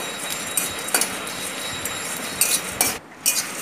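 Fenugreek seeds and fennel frying on very low heat while a spoon stirs and scrapes the pan, a steady soft hiss broken by several clinks and scrapes of metal, no voices.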